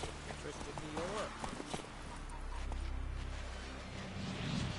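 Horse hooves clip-clop at a steady walking pace in The Witcher 3, mixed with game music and ambience while someone talks over it.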